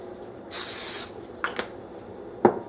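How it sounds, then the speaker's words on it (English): A single half-second burst of olive oil spray hisses loudly onto a griddle, followed by a few faint clicks and small taps in a quiet room. "I have this olive oil spray, so I'm going to spray it with that"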